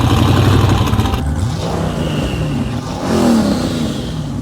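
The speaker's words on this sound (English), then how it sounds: "filled the tank with fuel and started the engine again" A rebuilt Chevrolet Corvette C6 V8 engine running and revving after refuelling, loud and close, with a rising rev and clatter near the end over the steady engine roar.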